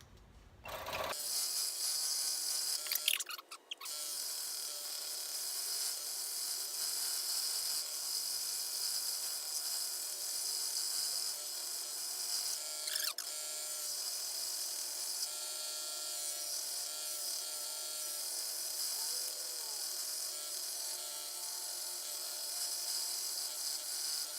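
A scroll saw runs continuously, a steady buzzing hum with faint cutting and rubbing sounds, after a brief clatter as it starts.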